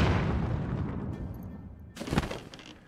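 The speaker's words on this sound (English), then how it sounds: "I'm gonna do a bomb jump." A bomb detonates with a booming blast in Zelda: Tears of the Kingdom, setting off a bomb jump; the loud burst decays over a second, followed by a second sharper crack and rumble.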